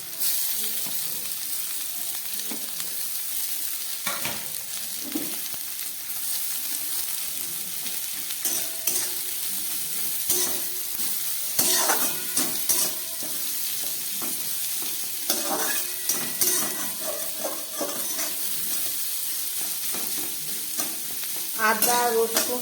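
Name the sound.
frying green chilli, onion, capsicum and cabbage in a pan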